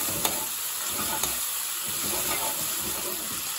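Spices sizzle and fry in a pan for a ginger chicken bhuna, a steady hiss with a couple of faint clinks from stirring and soft speech underneath.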